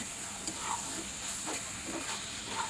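Walking catfish frying in a pan as it is stirred, a steady close hiss of sizzling oil with a few soft scraping stirs rising through it.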